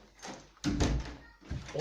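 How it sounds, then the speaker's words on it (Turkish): An apartment door swings and shuts, giving a couple of dull thuds and rattles close by, with faint movement noise between them. "Kapat kapat Tuncay kapıyı"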